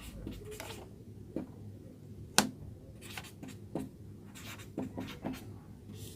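Chalk or marker writing on a classroom board during a lesson, a handful of short scratchy strokes and taps at moderate distance, with quiet room noise between them and no speech.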